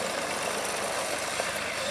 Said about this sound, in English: Very old tractor.